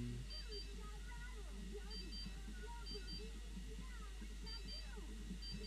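In The Sims 3, a mobile phone rings with soft, repeated high beeping tones in evenly spaced bursts, quiet under continuous talking and ambient game audio.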